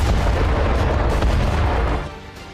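A continuous heavy roar of explosive rocket-fire blasts on the India-Pakistan Line of Control, dense and loud, rumbling steadily before tapering off near the end.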